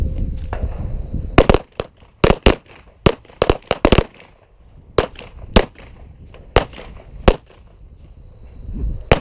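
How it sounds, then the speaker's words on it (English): Pistol shots fired at target circles on an outdoor range sound as sharp, loud cracks in quick pairs and singles, spread across the stretch with brief quiet gaps between groups. "On the command of threat, give me 2 rounds on circle 6, 1 round on circle 4."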